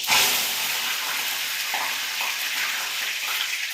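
Cumin and curry leaves sizzle hard in hot oil, a loud, bright, continuous crackling hiss that bursts up at once and then holds steady, close by with no talking.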